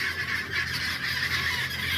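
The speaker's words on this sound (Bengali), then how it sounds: "চীনা হাঁসের ফার্ম আছে এখানে, হাঁসের ফার্ম দেখছেন" Chinese ducks crowded on a duck farm give a steady chorus of loud, overlapping honking calls that continues without a break.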